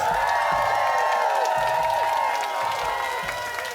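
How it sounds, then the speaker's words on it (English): Studio audience applause at a quiz competition between two high school academy teams, with clapping and scattered cheers and whoops over a sustained musical tone, loud and continuous throughout. "Give yourselves a round of applause."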